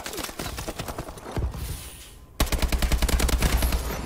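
An AK rifle fires in the video game Call of Duty: Advanced Warfare, with loud, rapid automatic bursts, a short lull, then a sustained volley.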